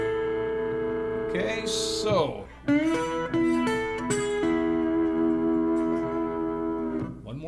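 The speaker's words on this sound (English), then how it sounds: "So the chord should sound like this." Slide guitar in open E tuning sounding a chord that rings out with sustained tones and bends in pitch as the slide moves, after a brief spoken word at the start.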